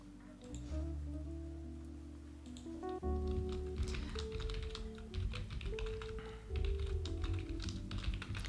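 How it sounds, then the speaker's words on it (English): Computer keyboard typing at a desk during a co-working stream, steady clatter of keys heard under continuous background music that dominates the mix. "I hope at least the sound of keyboard tapping is kinda soothing"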